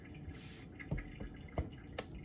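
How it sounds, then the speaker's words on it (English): Faint water drips and small splashes as wet hands are dipped into distilled water while working sourdough, falling irregularly, a few soft plops over a quiet background hiss. "Dip them into the distilled water."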